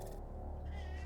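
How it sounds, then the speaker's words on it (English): A pet cat meows close by, one short cry in a quiet indoor room during a Helldivers 2 gaming stream, with no talking over it. "he just comes in and he has a good old meow at you, just to let you know that he's there"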